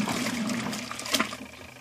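A washing machine spins a load of detailing wash mitts and rags in water, giving a steady, close watery swish and rush with a brief louder surge near the end.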